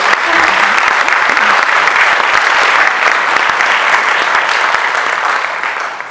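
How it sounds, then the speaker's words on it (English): An audience claps for a violin duet after its solo, a loud, sustained burst of applause that carries evenly and tapers slightly at the end. "can you give them like another applause for their solo?"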